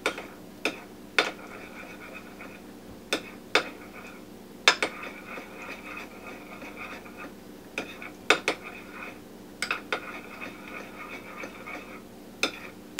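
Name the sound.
mixing honey mustard sauce in a bowl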